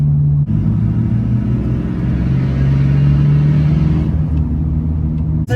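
Duramax diesel pickup truck with about 300,000 miles, heard from the cab as a loud, steady low engine drone and rumble that shifts pitch slightly while driving, with no talking.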